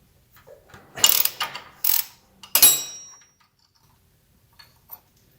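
A ratchet loosens a bolt on a Porsche 944 during a front crankshaft seal job: a few short, close bursts of rapid clicking, then quiet with a couple of faint taps.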